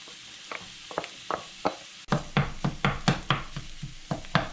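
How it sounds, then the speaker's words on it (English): Sizzling in a pan with repeated scraping stir strokes, sparse at first, then louder and quicker after a sudden rise in frying noise. "we're gonna pour it in the frying pan"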